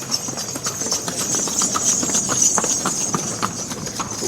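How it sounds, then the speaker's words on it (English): Small pony-drawn carriages on Gili Trawangan, an island without motor vehicles, pass with a steady trotting clip-clop of hooves close by, the rhythm running through the whole stretch over faint background noise. "these little, I say horse-drawn, but pony-drawn little carriage things, which is the main form of transport here"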